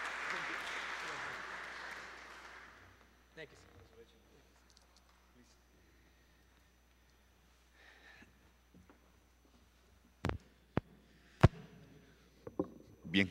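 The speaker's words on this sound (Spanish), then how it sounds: "Fuerte aplauso, por favor." Audience applause at the close of a Spanish-language scientific lecture, a loud burst of clapping that fades out within a few seconds, followed by quiet room noise and a few sharp knocks and thumps.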